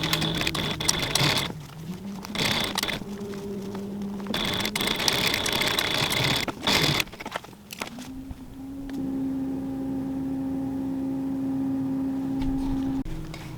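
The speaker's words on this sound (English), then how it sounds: "just put your needle down, turn it over, and then start sewing back up" A sewing machine stitches binding onto a backpack in short bursts of rapid mechanical whirring, separated by brief pauses and a longer, steadier run near the end.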